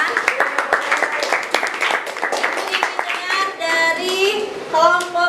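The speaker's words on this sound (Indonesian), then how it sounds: "Tepuk tangan buat Adrian." Classroom clapping for a student during a lesson observation, a burst of scattered hand claps from children, with children's voices chattering over and after it.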